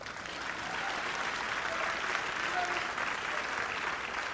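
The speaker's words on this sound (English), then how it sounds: "Give me a hand clap for that one." Audience hand clapping at a eulogy, a steady sustained round of applause from a crowd filling the whole stretch at an even, fairly loud level with no talk over it.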